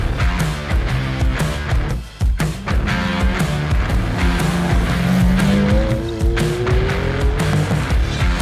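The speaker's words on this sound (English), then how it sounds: "What maniac lets me loose with a Ferrari on a road like this?" A Ferrari is driven hard along the winding Mulholland Highway near Hollywood. Its engine roars loudly and its pitch climbs steadily, over a constant rush of road and tire noise with brief squeals.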